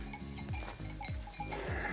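Goats and sheep wander a dry, parched pasture, with scattered low bleats and soft animal sounds blending into a steady outdoor ambience, no talking.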